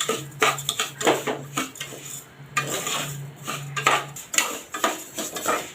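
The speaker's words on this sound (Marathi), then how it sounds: "आता इथे आपण लापशी भाजत आहोत" Broken wheat roasting in ghee in a pan while a spoon stirs it. Repeated clattering scrapes and knocks of metal on the pan come in an uneven rhythm, close and fairly loud, with a light sizzle underneath.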